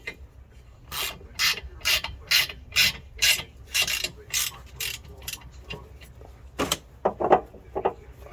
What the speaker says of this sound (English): now I'm gonna tighten this right here for the bag